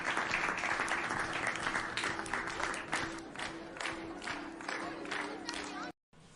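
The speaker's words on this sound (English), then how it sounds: "We are clapping." Children clap and cheer together in a lively, steady burst of applause with excited voices mixed in, ending in a brief cut near the close.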